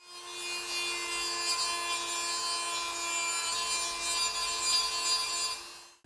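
Abrasive grinding smooths the inner core of aftermarket Playlife motorcycle handlebar grips, a steady continuous whirring rasp with a strong tonal whine, close and loud, running uninterrupted for about six seconds with no talking.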